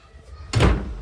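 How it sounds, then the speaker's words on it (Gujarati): A window suddenly blows open in the wind, giving one loud, close thump with a rush of air after a quiet moment indoors. "તો અચાનક બારી ખુલી ગઈ"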